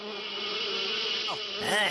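Cartoon mosquitoes from a Ninja Hattori episode give off a steady, close, high-pitched whine that runs unbroken throughout, with a few swooping tonal effects near the end.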